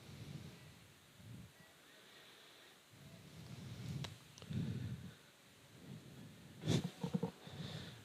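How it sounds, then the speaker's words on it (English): Distant thunder rolls as low, soft rumbles at an outdoor fall baseball game, rising and fading several times, with a sharper crack near the end and faint background sounds. "You can hear thundering back there."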